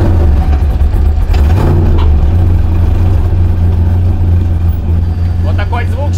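A race car engine runs loud and close, a deep steady rumble throughout with slight rises in pitch near the end.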